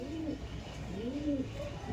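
Young Andhra pigeons coo in a steady run of soft, low rolling calls, close by and continuous with no talk over them.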